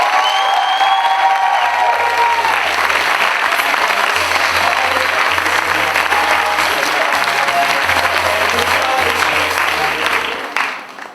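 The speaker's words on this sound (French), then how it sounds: "on les applaudit bien fort" A theatre crowd applauds and cheers the arriving team at an improvisation match final, loud continuous clapping with whoops and shouts that runs throughout and fades out at the very end.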